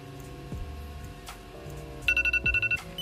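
A timer alarm goes off near the end, sounding as a rapid series of sharp, evenly spaced beeps over a quieter background of sustained tones.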